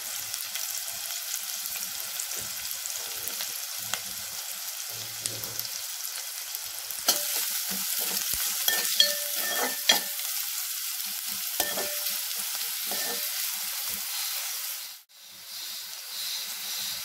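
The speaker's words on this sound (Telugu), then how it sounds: "ఒక 4 పచ్చిమిర్చి వేసుకొని హై ఫ్లేమ్ లో పెట్టుకొని వేయించుకోవాలి" Chopped onions and four green chillies frying on high flame for veg manchurian, a continuous soft sizzle and hiss with scraping stirs of a spatula in the pan, one louder clatter near the end.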